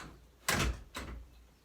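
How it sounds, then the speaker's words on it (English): A closet door at a home altar setup opens with a loud broadband thump, then a second, softer knock about half a second later, close by with no talking. "I hate my closet door."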